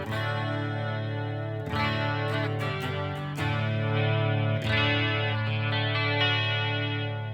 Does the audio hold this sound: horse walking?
no